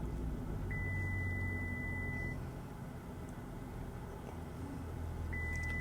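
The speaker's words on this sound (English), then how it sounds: "The reason it's beeping on the front is because I have a bull bar, and that interferes with the park assist" Chevy Silverado park assist sensors beeping, a steady continuous tone lasting over a second, then silence with a low idling hum, then the tone returns near the end; the front sensors are set off by a bull bar.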